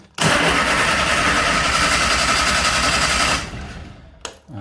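The engine of a Bedford CA ice cream van cranks over in a workshop, a loud, steady churning of the starter motor for about three seconds that stops abruptly, followed by a short quiet and a brief mechanical clunk.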